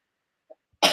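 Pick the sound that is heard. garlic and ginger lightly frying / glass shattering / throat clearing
throat clearing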